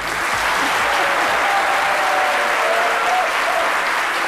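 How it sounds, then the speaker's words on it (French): Loud, sustained applause from a crowd, dense clapping that holds steady for several seconds without voices. "merci d'applaudir Boaké"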